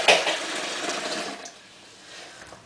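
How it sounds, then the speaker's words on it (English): Water poured into a jug to rinse it during silk soap making, a brief splashing, gushing rush that starts strong and trails off over a few seconds, heard close with no talk. "I'm going to put some water in that to rinse it out."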